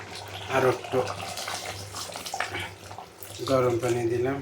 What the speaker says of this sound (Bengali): গরম পানি দিলাম, ভালোভাবে সিদ্ধ হোক